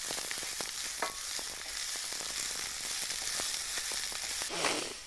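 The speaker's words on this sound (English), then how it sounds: "When the oil is nice and hot, add the onion and cook it until it's nice and soft." Onion frying in hot oil on a hob, a loud, continuous close sizzle with scattered crackles and a brief louder burst near the end, no talking.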